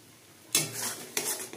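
Mango sandesh mixture with cardamom stirred in a pan, two brisk scraping strokes of the spoon close up, each a short rough swish over a quiet background.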